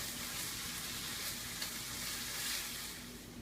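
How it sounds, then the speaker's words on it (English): Food sizzles steadily while frying in a pan, a continuous close hiss with no talk over it. "You hear that beautiful sizzle?"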